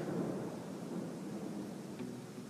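Rain and distant thunder during a mountain walk on volcanic lake trails in Indonesia, a dense steady hiss with a low rumbling undertone, continuous and with no voices.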